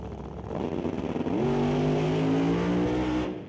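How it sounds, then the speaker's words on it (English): A 1970 Camaro drag car with a 526 cubic inch Hemi engine launches and accelerates hard at a drag strip, its engine roaring loudly and climbing in pitch for a few seconds before fading slightly, with no voices. "Eric Halverson brings up the 1970 Camaro. 526 cubic inches of Hemi motor under the hood."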